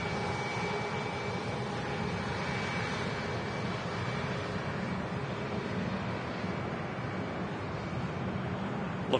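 An Iberia Express jet taxis at Manchester Airport, giving a steady distant engine whine and broad roar with wind noise and no distinct events.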